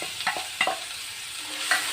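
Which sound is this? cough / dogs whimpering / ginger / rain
ginger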